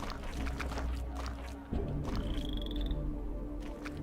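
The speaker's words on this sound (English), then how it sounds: "There's a frog." Frog croaking in the video game Legacy of Kain: Soul Reaver 2, several close croaks over a humming game soundscape, with a brief rising chime partway through.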